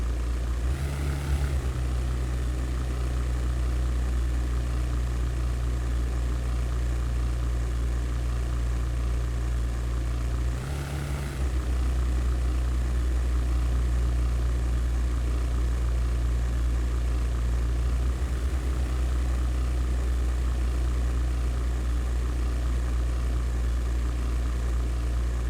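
A steady, droning propeller aircraft engine at near-neutral throttle in the 1998 flight game European Air War, a continuous low hum with two brief dips, heard alone without talk.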